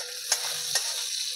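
Food frying in a pan of oil with turmeric, a close, steady sizzle broken by two brief stirring scrapes, no talking.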